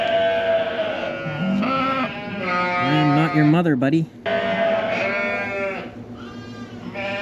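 Sheep and lambs bleat loudly and repeatedly inside a lambing barn, wavering calls overlapping one another close by while a person speaks over them.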